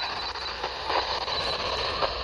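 Steady hiss and crackle of satellite radio reception through a portable satellite antenna, with faint warbling signal blips in the noise, continuous and fairly quiet.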